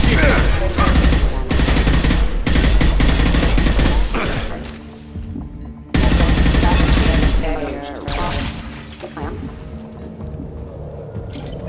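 Gunfire in the video game Mass Effect 2 bursts in loud, dense volleys of rapid shots and thumps, with short pauses and decaying echoes between the heavy bursts.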